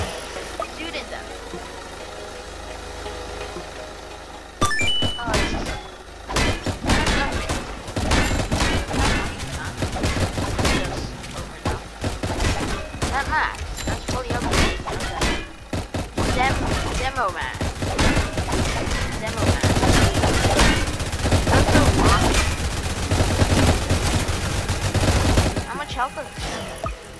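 Rapid, dense automatic gunfire from minigun towers firing on zombies in Roblox Tower Defense Simulator, a quiet start giving way after a few seconds to loud, continuous bursts that run throughout, with game engine and effects sounds mixed in.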